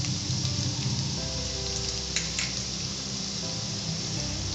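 Finely chopped garlic sizzles in oil in a pan over a low flame, a steady close crackling hiss that runs on without pause.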